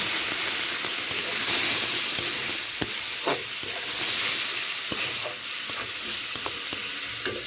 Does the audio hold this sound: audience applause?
no